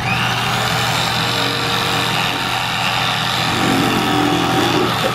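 An electric fillet knife motor hums steadily and close while cutting a fish fillet and rib bones, a constant buzzing drone with a slight shift near the end.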